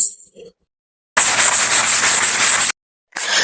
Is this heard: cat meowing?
no